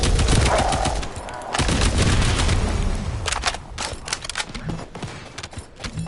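Gunfire in the shooter The First Descendant, rapid loud bursts of automatic shots in the opening seconds, then scattered sharper cracks and echoing impacts further off.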